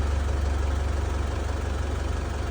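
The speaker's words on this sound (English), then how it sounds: "When car is idling." An Isuzu D-Max diesel engine with unstable fuel rail pressure idles nearby, a steady low rumble with a slight rhythmic pulse and no voices.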